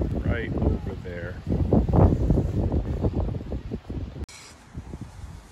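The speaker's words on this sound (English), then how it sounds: "It's windy and rainy today, so the wind sort of blew my umbrella inside out." Wind gusts hard outdoors on a rainy day near Bryn Athyn College, a loud, rough buffeting roar battering the microphone in uneven surges, easing toward the end.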